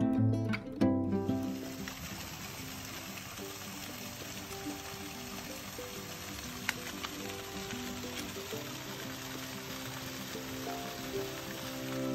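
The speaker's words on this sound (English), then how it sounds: "Hiking in the rain for a while, the sun's about to come out" Rain falls steadily on a hillside trail near Mount Adams during a hike, a continuous close patter and hiss of drops with a brief louder rustle at the start and no talking.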